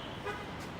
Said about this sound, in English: People honk for no reason.